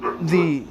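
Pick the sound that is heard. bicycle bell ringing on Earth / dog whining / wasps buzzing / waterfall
dog whining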